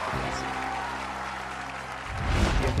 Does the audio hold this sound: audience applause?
yes